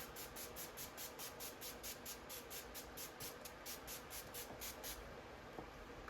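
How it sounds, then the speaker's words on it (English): A rapid series of about twenty short, soft spray pumps hisses in a steady rhythm, close and quiet, then stops. "I'm gonna take a different setting spray and set my face now."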